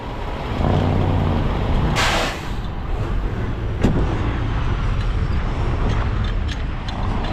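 A new Kenworth T680 truck rumbles steadily nearby with a sharp air-brake hiss about two seconds in and a brief clank later, the engine staying loud throughout.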